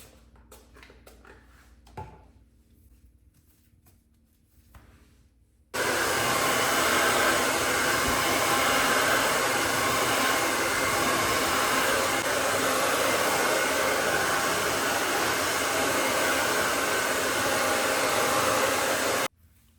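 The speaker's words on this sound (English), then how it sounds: "once I start going with the blow dryer, it's just easy breezy going through it" A blow dryer roars on steadily for about fourteen seconds, loud and continuous, drying and straightening hair during a DIY ombré quick weave bob, with quieter handling sounds before it switches on.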